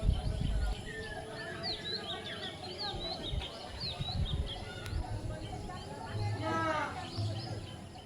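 Faint birds chirp and twitter in the distance over soft wind and background murmur, with scattered calls throughout.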